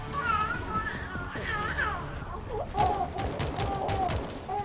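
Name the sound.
gunshots fired in the video game World War Z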